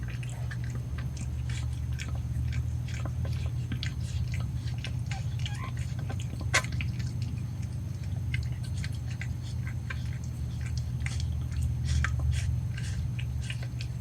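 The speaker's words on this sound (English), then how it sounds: "There's some more placental magic happening there. It's very chewy" A mother cat chews her placenta just after giving birth, with soft, wet clicking bites scattered irregularly over a steady low hum.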